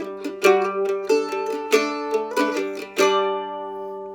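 A mandolin plays a short phrase of the Skye Boat Song with plucked, ringing notes over open strings, about eight picked attacks in a lilting rhythm, close and clear, ending on a sustained tone with no talk.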